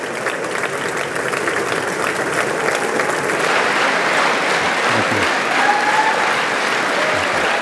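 Dense, loud applause from a large standing crowd in the US Congress chamber, a continuous roar of clapping without pause for Israeli Prime Minister Benjamin Netanyahu.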